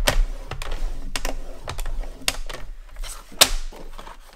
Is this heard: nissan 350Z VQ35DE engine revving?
no